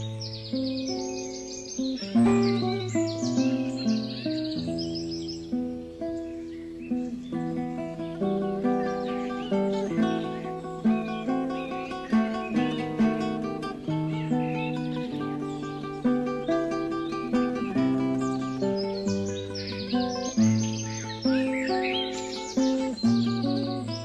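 A dense, steady chorus of birds chirps and sings around nest boxes at a vineyard, with overlapping calls continuing through the whole stretch and no talking.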